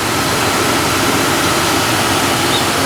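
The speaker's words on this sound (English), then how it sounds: "Does your engine sound like this?" Steady idle of a 2001 Dodge Dakota 4.7L AWD engine with an electric fan on, a constant rushing drone over a low rumble, loud and even with no talk.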